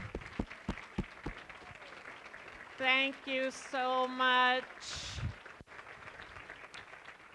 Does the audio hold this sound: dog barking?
no